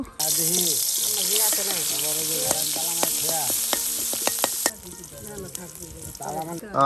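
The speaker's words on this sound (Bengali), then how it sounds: "এই যে তেলের সাথে সুন্দর করে কিন্তু মশলাটা একদম ভেজে নেওয়া হচ্ছে" Ground spices frying in oil for a village-style Bengali meat curry, a steady close sizzle with scraping stir strokes and clinks, partly under a voice talking, with a louder clatter near the end.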